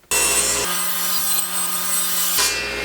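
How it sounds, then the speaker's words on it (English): A table saw ripping through a wooden board for a simple garage cart, heard as a loud, steady whine with a deeper tone while the blade is in the wood, then returning to the idling spin. "to make these cuts, I'm going to use a table saw"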